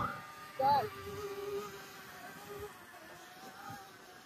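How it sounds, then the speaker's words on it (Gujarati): A camera drone flies overhead at Raita Hill, a spot ringed by mountains with a road through the middle, giving a thin, insect-like buzz with a steady tonal hum and a brief whistling rise, fairly faint against outdoor ambience. "આ ડ્રોન ઉપર ઉડે ભમરાંગોળ અવાજ આવતો છે"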